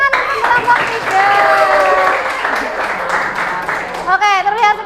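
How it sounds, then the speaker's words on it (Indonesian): Audience applause for group 3 at a teacher performance assessment session in Indonesia, a dense stretch of clapping filling most of the clip and fading into a burst of lively, excited voices near the end. "kasih tepuk tangan untuk kelompok 3"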